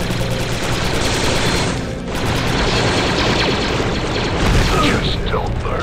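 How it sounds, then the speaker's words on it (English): A grenade blast in the Star Wars: Republic Commando video game sits inside dense, continuous combat noise, a deep boom rolling under steady blaster fire and clattering mechanisms, loud throughout with a brief dip midway. "Grenade thrown."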